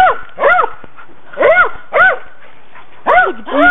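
A pet dog barks in loud, close, sharp double barks, pairs of barks separated by short pauses, with no talking over them.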